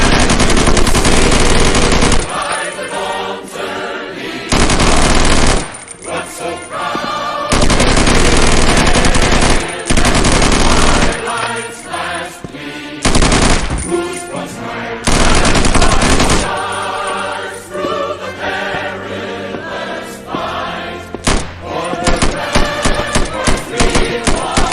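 Automatic gunfire from the video game Postal 2 comes in loud, dense bursts of rapid shots separated by short pauses, continuing throughout.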